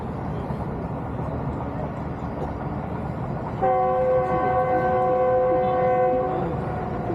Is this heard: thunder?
no